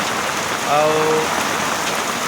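Heavy rain pours down in a loud, constant hiss at Saintala railway station, with a faint brief whistle-like tone rising briefly over it.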